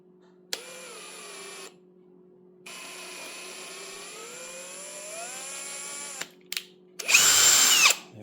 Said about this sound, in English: I'm going to power tap without coolant.